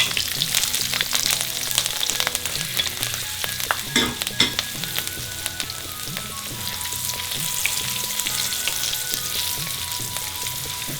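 Kalonji, hing, ginger and green chili fry in hot oil with a loud, close, crackling sizzle, broken by a few spoon knocks and stirring scrapes, with no talk.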